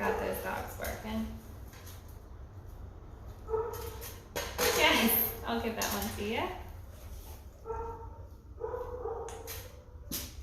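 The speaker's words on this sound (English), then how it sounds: "I hear a bunch of dogs barking" A bunch of dogs bark and yip in the distance in scattered bursts during a dog training session, mixed with a person speaking nearby over a low background hum.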